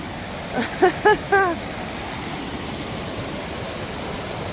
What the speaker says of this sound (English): Can you hear the sound of the river? This is normally a trickling little stream.